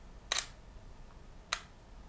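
Single-lens reflex camera shutter set to a 1-second exposure: two crisp mechanical clicks about a second apart, the opening snap and the closing snap, close up and otherwise quiet.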